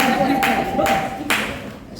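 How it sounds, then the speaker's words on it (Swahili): A few bursts of clapping from a youth group gathered for a gift-exchange night, rising in distinct waves over a room's murmur, with a voice speaking faintly underneath. "Makofi kwake."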